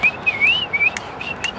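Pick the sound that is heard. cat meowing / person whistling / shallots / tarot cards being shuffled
person whistling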